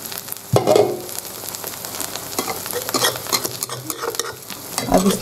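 A veggie and rice pancake sizzling in a pan over low heat, a close, continuous frying crackle with occasional scraping and stirring noises, no talking.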